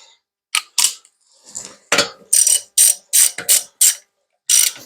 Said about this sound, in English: I'm just going to use a regular socket